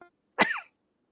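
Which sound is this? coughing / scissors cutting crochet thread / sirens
coughing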